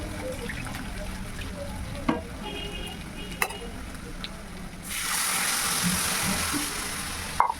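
Water is poured into a paneer curry in a pan: after quiet stirring and a few scraping clicks, a broad rushing hiss rises and holds for a couple of seconds before fading.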